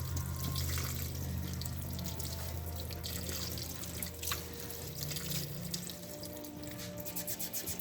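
Water poured or run over bundled dormant scion wood being stored, heard as a steady close splashing trickle with faint drips, continuous and alone without voices.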